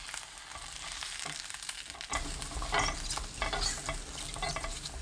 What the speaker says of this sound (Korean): 마늘, 표고버섯 넣고 센 불로 1분 30초 볶아주세요.